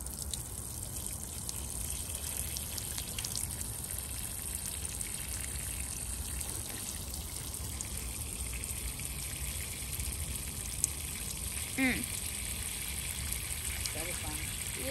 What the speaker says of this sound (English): So I'm just going to be watering our cotton candy Aprium.